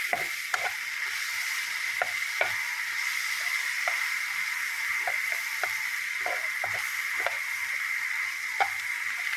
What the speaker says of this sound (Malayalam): നമുക്ക് ഇതിലേക്ക് ചിക്കൻ മസാലപ്പൊടി ഇട്ട് കൊടുക്കും കുറച്ച് എല്ലാം കൂടി ഒന്ന് ഇളക്കി കൊടുക്കും